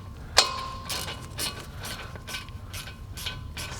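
Ratchet wrench clicking in quick, evenly spaced bursts while threading the 7mm hex Allen guide pins into a brake caliper on a 2012-2018 MK6 VW GLI, close and fairly quiet, with one sharp metallic tap near the start.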